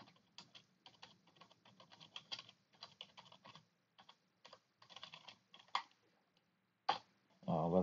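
Uneven bursts of typing on a computer keyboard, close and quiet, with pauses between words, followed near the end by a brief throat sound and a voice starting to speak.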